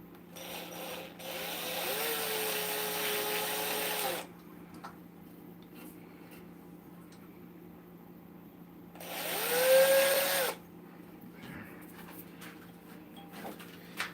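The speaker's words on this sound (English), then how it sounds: "I want to re-drill my hole" A power drill whirs in two bursts of a few seconds each, re-drilling a glue-filled hole in a wooden Christmas ornament, the second burst shorter and rising in pitch, with quiet pauses between.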